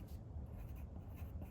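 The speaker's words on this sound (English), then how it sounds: "Let's write that sentence." Pen or pencil writing a sentence by hand during a math lesson on percentages, a soft continuous scratching that stays faint and close, with no talk over it.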